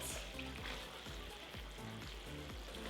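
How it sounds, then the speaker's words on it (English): Butter melts in a cast iron skillet on the stove for a pan sauce, giving a faint, steady sizzling hiss with no breaks over a few seconds, alongside a low humming background. "We're gonna throw our butter in there. We'll let that melt."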